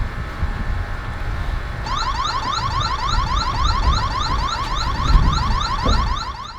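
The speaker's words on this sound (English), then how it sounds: "when the Wyze V3 detects motion, it's able to automatically turn on the siren" A Wyze V3 security camera's siren sounds after about two seconds, a loud, rapid, repeating electronic warble that keeps going steadily over a low, rumbling background until the end.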